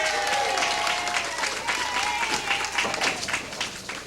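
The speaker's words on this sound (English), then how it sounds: "Great round of applause for Tim Lipke." Applause from an audience at a 1996 candlepin bowling tournament, a steady patter of many hands filling the room for about four seconds, with an announcer's voice faintly audible beneath.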